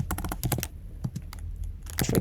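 Typing on a computer keyboard, a rapid burst of clicky keystrokes, then a pause with a few isolated taps, and another quick flurry at the end, close and fairly loud.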